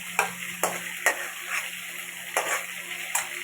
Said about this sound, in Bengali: মাছটাকে একটু নেড়ে চেড়ে তুলে নেব আমি